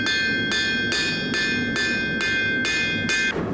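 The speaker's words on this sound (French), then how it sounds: "regarde, mon marteau, je l'amène vers moi. Je sais pas si vous remarquez. Mais là, ça va étirer ma pointe." Eight evenly spaced hammer blows ring out on a metal sheet being flattened and stretched to a point, each strike sharp and metallic with a lingering bright tone over a steady background hum.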